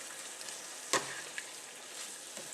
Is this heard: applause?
no